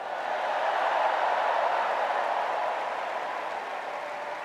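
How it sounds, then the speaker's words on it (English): A large 2024 Democratic National Convention crowd applauds First Lady Jill Biden in a sustained, dense roar of clapping and cheering that stays loud and eases off only slightly toward the end. "Let's give a special round of applause to our First Lady,"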